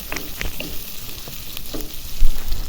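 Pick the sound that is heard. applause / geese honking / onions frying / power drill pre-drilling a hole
onions frying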